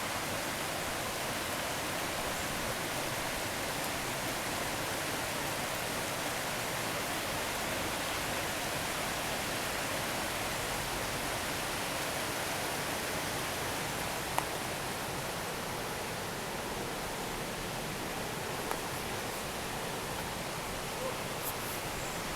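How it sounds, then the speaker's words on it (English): A river in Brecon in full flow after heavy winter rain, a steady broadband rushing of water heard from some distance, even and continuous with no voices. "the river is in full flow at the moment"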